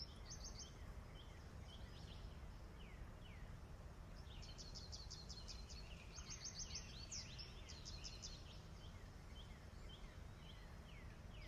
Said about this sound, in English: Very pleasant birdies.